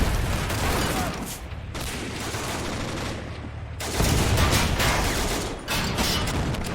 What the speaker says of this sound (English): machine gun seems to be unloading there